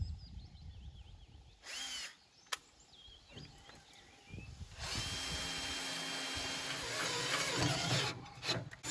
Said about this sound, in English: I actually need to drill a new hole here